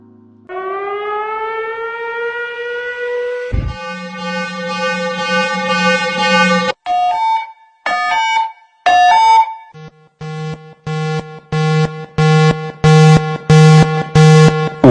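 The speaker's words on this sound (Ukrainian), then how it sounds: "Сирени є двох видів: попереджувальна тривалістю 7 секунд, сигнал загальної тривоги, який триває одну хвилину та повторюється не менше трьох разів." A Ukrainian air raid warning siren rises into a long, loud steady wail, then changes to clipped on-off tones and sharp repeated bursts in a regular rhythm, with no talking.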